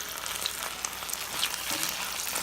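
Shrimp hit a hot pan for scampi and set off a loud, steady sizzle of frying oil, crackling and spitting close by with no talk over it.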